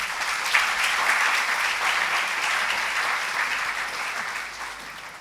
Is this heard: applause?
yes